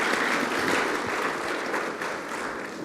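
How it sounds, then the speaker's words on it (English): An audience at a governor's symposium applauds, a dense, sustained wash of clapping from many hands that fades slightly toward the end, with no one talking. "Yeah, round of applause."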